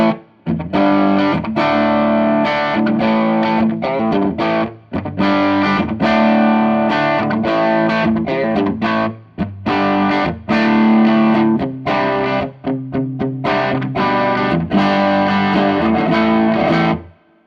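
Electric guitar with a distorted tone, played on the bridge pickup through a Fender Blues Junior tube amp with gain near one o'clock. It strums dense, loud chords and riffs continuously, alone without talk.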